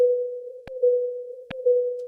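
A single isolated band of airplane noise plays alone as a steady, pure hum-like tone, broken by a few brief clicks, then cut off abruptly at the end.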